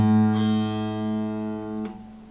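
Acoustic guitar fifth string plucked open on a coated or uncoated string, ringing with steady sustain, then a second pluck near the end before it fades, close and alone.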